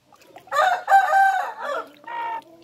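Chickens being bathed cluck while a rooster crows loudly nearby in a long drawn-out call, followed by a shorter crow, with no voices.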